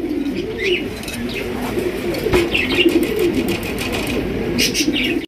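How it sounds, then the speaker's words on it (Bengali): A pair of Lakkha pigeons coo steadily in low, rolling throaty phrases, close and continuous across the whole stretch, with faint chirps from other birds in the background at a pigeon market. "এখানে হচ্ছে একজোড়া সবজি লক্ষা কবুতর"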